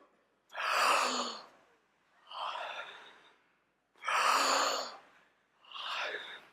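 A crowd of people in a group breathing exercise take deep, heavy breaths together: two loud inhales and two softer exhales alternate in a slow, steady rhythm, with no talking.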